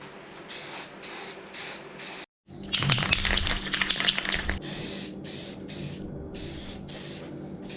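Spray paint hissing onto metal roof rack parts in repeated short bursts, then one long continuous spray after a brief silence, close and steady.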